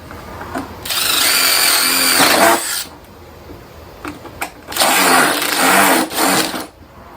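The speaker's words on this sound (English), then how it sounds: "And we'll drill that." A power drill whirs in two sustained bursts with a pause between, a loud buzzing grind as the bit bites into a steel service cart.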